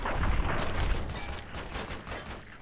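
Dense gunfire in the game Fallout, rapid overlapping shots and bursts, loud and close, with no talking.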